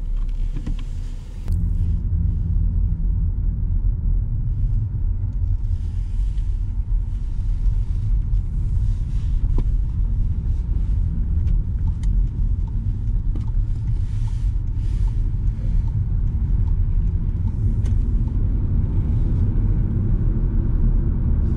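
A Skoda Octavia driving along, heard from inside as a steady, loud low rumble of engine and road noise that runs unbroken for the whole stretch, with a brief thump near the start and no talking.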